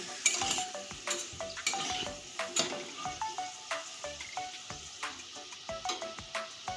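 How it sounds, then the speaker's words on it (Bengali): Potatoes frying in oil in a pan, a light sizzle under a steady rhythm of metal spatula clinks and scrapes against the pan. The sound is close but fairly quiet, with no voices. "আলু আমি লাল করে ভেজে নিচ্ছি"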